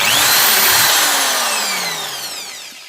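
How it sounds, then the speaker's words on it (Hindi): An electric drill bores holes into the panel of a 400W stereo amplifier cabinet, its loud high whine sweeping as the motor spins, then steadily winding down and fading over about three seconds. "चारों में आपको ड्रिल मशीन से होल कर लेना है।"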